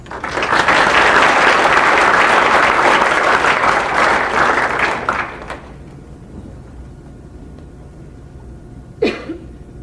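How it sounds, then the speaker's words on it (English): A theater audience applauds loudly and steadily for about five seconds at a panel event honoring the inventor called the Wizard of Menlo Park, then the clapping fades into quiet room tone, broken by one sharp cough near the end. "Let's give him a round of applause"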